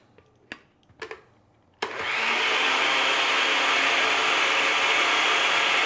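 A kitchen blender whirring as it mixes Brazilian pudding cake batter with oil; after a few soft knocks, the motor kicks in abruptly and holds a steady, loud, close whine to the end.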